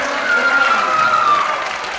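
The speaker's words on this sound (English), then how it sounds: "let's give our pre-K friends one more round of applause" A crowd at a pre-K to third grade school character education assembly applauding, steady loud clapping with a faint whistle-like tone running through the middle.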